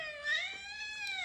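A cat gives one drawn-out, wavering meow, close and clear, rising slightly before trailing off, with no voices over it.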